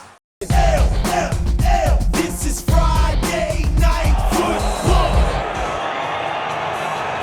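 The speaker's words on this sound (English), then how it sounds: "Great crowd on hand. They are loud and in charge here." A loud crowd at a Lingerie Football League game between the LA Temptation and San Diego Seduction cheers, whoops and yells in a large stadium. Shouts burst out near and far over a continuous roar of voices.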